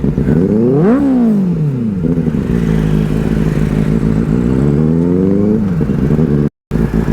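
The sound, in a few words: loud superbike engine riding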